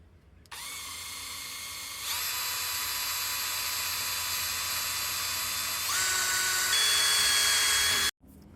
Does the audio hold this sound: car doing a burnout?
no